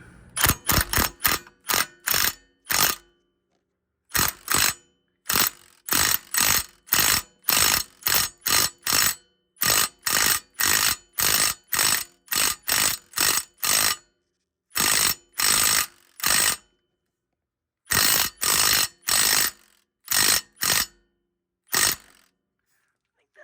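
A wrench runs an old lug nut onto a wheel stud of a Yamaha YXZ1000R side-by-side in sharp, loud rattling bursts, many short repeated pulses with brief pauses between groups.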